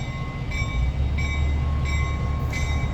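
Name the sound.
LIRR light engine locomotive moving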